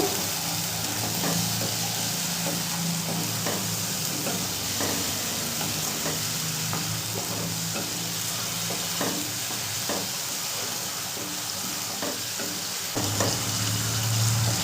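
Potatoes with salt and spices sauté in a pan, a loud, dense, continuous sizzle with scattered scraping stirs throughout, heard up close with no talking.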